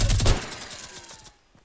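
A rapid burst of gunfire in Fortnite, loud and close, fading into a short echoing tail and then near silence.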